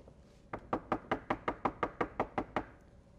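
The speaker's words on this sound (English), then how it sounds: "they asked the steward to knock on his door to wake him up" A steward raps on a ship's cabin door with about eleven quick, evenly spaced knocks in one steady burst, close and crisp, with no voices.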